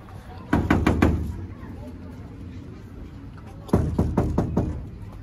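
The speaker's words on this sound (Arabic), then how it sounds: "يلا دق هنا، دق هنا" Two bursts of knocking on a door, each a quick run of four or five sharp raps, close and loud, separated by a few seconds of background noise.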